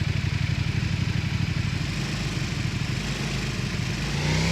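A motorcycle engine in the PUBG video game chugs at a steady idle with rapid rhythmic pulses, continuous and fairly close, with a slight rise near the end.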